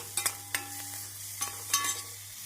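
Grated carrot stirred into softened onion in a pan over medium heat, with a few scattered scraping stir strokes and light sizzle over a steady low hum, fairly quiet and with no talking.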